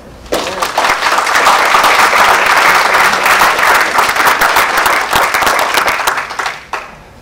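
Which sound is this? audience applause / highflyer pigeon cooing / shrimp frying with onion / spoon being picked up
audience applause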